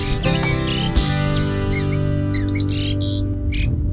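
Javan pied starling (jalak suren) calls, with a few short, bright chirps and whistled notes rising over a steady tonal backing, clearest in the second half.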